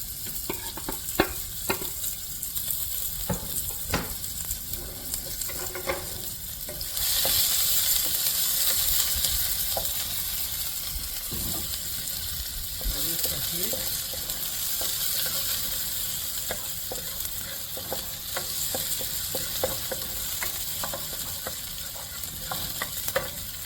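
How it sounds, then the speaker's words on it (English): Onions fry in avocado oil with a steady sizzle that swells and eases as a utensil stirs them, scraping and clicking against the pan at close range throughout. "I forgot I put oil, which I don't normally do, but it's organic and avocado oil"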